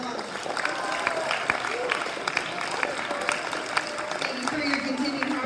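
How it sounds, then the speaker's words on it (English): Audience applause at a high school awards ceremony, a continuous wash of many hands clapping at steady volume from the room, with faint voices underneath. "Please give them a round of applause."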